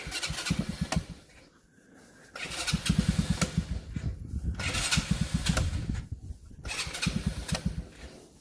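A Tao GK110 go kart engine is cranked in the cold, sputtering in repeated rough bursts that briefly catch and die between pauses, loud and close.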